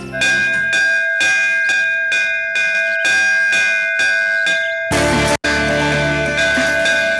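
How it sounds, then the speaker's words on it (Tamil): Temple bell struck repeatedly in an even rhythm, bright sustained tones ringing close and loud, then a denser burst of clanging with a brief dropout near the end. "மணி அடிக்குது, நல்ல சகுனம்."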